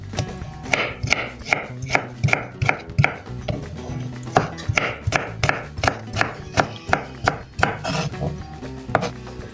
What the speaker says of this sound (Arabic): هلا عم نقص البندورة ترانشيت بس بدنا نفرمه